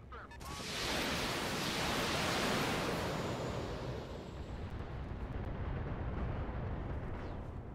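A heavy weapon volley from a mech in a video game erupts into a loud, roaring wash of broadband noise that swells quickly and sustains for several seconds before easing slightly.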